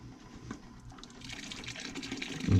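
Water flushes through a steam trap strainer during cleaning, a gurgling, rushing flow that builds steadily over a few seconds and swells louder near the end, with no talking.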